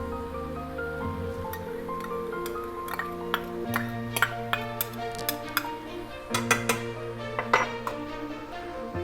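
A spoon clinks repeatedly against a bowl while stirring vinegar, sriracha and hoisin sauce together, light irregular ticks over a steady background hum.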